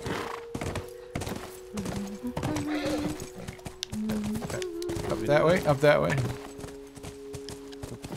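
Horse hooves clip-clop in The Last of Us gameplay, a steady walking rhythm of hollow thuds joined by a whinny partway through, with someone talking over it.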